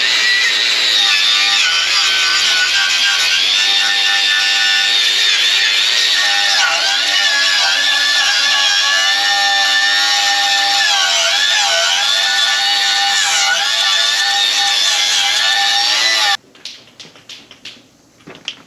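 A wire wheel on a grinder scrubs rust off metal on a John Deere 643 corn head, a loud, harsh, continuous whine and scratch that wavers with pressure before cutting off near the end.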